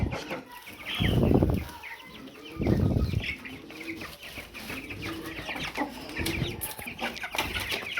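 Chickens clucking and cackling as they eat from hanging feeders inside a coop, a busy, close flock chorus with louder bursts rising over continuous background chatter.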